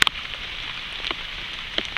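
Steady rain falls outdoors during an attempt to start a survival fire, a continuous hiss of drops on surfaces with a few louder nearby patters and spatters standing out.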